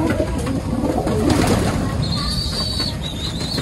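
Racing pigeons coo steadily in a loft on a derby race loading day, with soft layered calls over a constant background murmur and faint rail-like hum.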